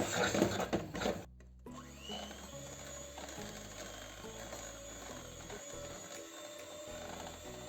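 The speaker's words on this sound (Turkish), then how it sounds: "Gördüğünüz gibi kalan harcımızı da kakaoyla çırptık." A whisk beats cocoa into homemade cake batter with a steady mechanical whirring, loud at first then settling into a continuous even drone close by.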